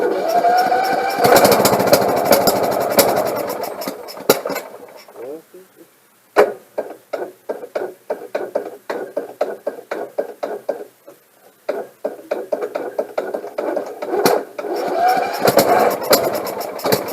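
A lawnmower engine, just back together after a carburetor clean and repair, is cranked and tries to start. It gives rough bursts of running, then a long stretch of rapid, uneven popping and sputtering, close and loud, before a steadier roar returns.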